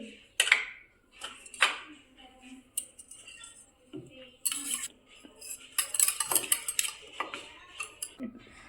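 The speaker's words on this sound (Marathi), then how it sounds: "थोडंसं चवीनुसार मीठ आणि थोडीशी हळद। आपल्याला चांगलं फेटून घ्यायचं आहे हे।" A spoon whisks a paneer marinade of salt and turmeric in a bowl, making scattered clinks and taps against the bowl that grow into quicker rhythmic clattering toward the end.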